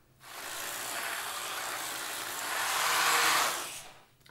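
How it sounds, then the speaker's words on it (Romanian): An electric hand mixer whirs steadily as butter is beaten into cream, a continuous close-up motor drone that swells slightly louder near the end before cutting off. "Acum o voi mixa cu un mixer."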